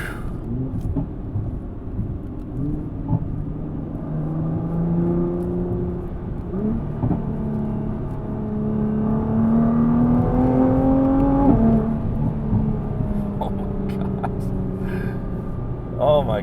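A Nissan GT-R T-spec sports car engine hums and whirs steadily as it drives at speed, rising in pitch while accelerating, with someone talking over it.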